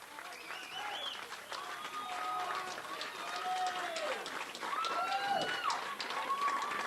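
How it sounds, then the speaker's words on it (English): Crowd at a 1999 high school baseball game between Cooperstown and New Milford, cheering and clapping steadily after a game-tying double, with whistles and calls rising throughout and swelling louder toward the end, voices mixed in. "Crowd's hyped up again now."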